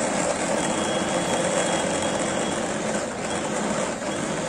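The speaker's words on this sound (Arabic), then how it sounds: "هذا الموتور ديال السيروس لوريجينال ما كنلقاش في الصدام" An electric meat grinder motor runs steadily at home while kefta is prepared with onion and herbs, giving a loud, continuous whirring drone with no breaks.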